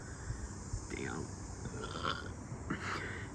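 A person lets out a burp during a family mountain hike, a quiet, rough, low sound under steady outdoor wind noise and the hum of the open air.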